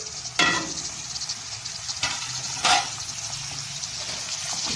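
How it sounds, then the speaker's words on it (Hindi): Minced meat keema frying in a pan after being covered to soften, a steady broadband sizzle with a few sharp stir or spatter bursts, close and fairly loud, no talking. "ये देखें, ये भुन रहा है और गल भी गया है।"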